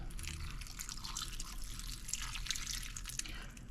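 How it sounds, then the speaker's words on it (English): Four cups of chicken broth pour into a slow cooker over corned beef, a continuous close splashing trickle with no speech, ending in a brief louder knock. "So we pour our broth."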